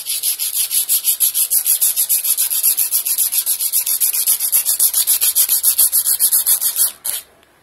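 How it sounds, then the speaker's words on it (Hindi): Rapid rhythmic rubbing on a piece of iron to polish it to a shine, about forty even back-and-forth strokes, loud and close, ending abruptly with one last stroke. "अब हम लोहे को रगड़ कर देखेंगे, ये हमारे पास लोहे का एक पीस है,"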